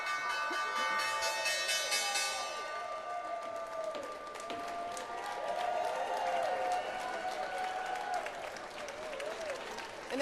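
People at the stock exchange closing bell applaud and cheer, with dense rapid clapping over a ringing bell at first, then a sustained crowd clatter with whoops and voices to the end.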